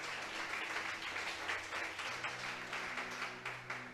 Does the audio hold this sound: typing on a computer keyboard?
no